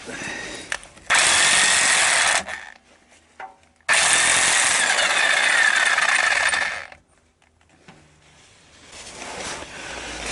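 A power tool works a drive shaft nut loose on a Chevy Astro, two loud sustained whirring bursts of a few seconds each, separated by quiet gaps with small clanks and handling noise.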